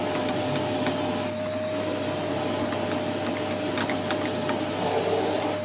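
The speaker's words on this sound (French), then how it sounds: "je suis en train de passer un coup d'aspirateur partout à l'intérieur" A vacuum cleaner runs steadily and close while it cleans inside the seat of a corner sofa, a continuous motor drone with faint scraping and knocks as the nozzle moves.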